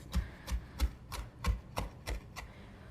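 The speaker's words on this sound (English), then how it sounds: "So we're just gonna kind of finely chop this." A knife chops fresh basil on a cutting board in eight steady, evenly spaced thuds, close and fairly quiet, with no talking.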